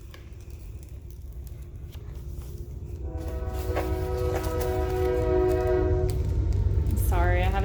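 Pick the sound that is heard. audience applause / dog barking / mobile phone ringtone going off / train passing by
train passing by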